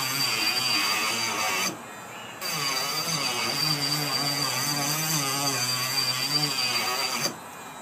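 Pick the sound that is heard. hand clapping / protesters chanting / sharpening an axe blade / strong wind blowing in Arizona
sharpening an axe blade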